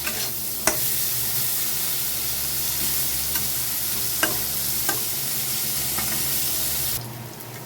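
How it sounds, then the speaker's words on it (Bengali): Sliced bitter gourd frying in a pan, giving a loud, steady sizzling hiss with a few sharp spoon clicks scattered through it. No one speaks, and the sizzle quietens near the end. "তো একটু ভালো করে ভেজে নেব"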